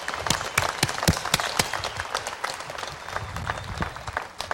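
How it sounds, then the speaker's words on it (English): An audience at a university commencement ceremony claps steadily for graduating students, a thick wash of applause with individual sharp claps standing out close by. "let's have another round of applause for these students"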